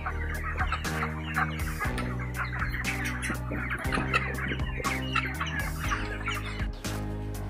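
A dense flock of 37-day-old broiler chickens clucking inside a poultry farm shed, continuous overlapping chatter and clucks close by with sharp knocks, no talk.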